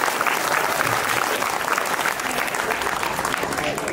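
Sustained audience applause at a Shivaji Maharaj lecture in Karnataka: dense, steady clapping fills the hall for the full few seconds, with voices faintly mixed underneath.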